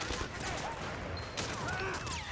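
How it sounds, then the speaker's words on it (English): Gunfire in the video game Sleeping Dogs: Definitive Edition, Year of the Snake DLC, a dense, loud burst of shots and game noise that continues without a break. "Just have to shoot him in the hand."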